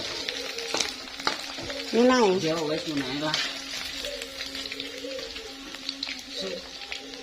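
Snail rica-rica sizzles and fries steadily in a pan, a continuous crackling hiss with occasional stirring, while people talk nearby.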